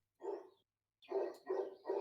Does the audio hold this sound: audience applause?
no